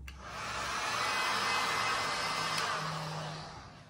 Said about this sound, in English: I'm gonna use my heat gun for the first time